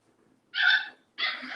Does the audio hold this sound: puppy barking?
yes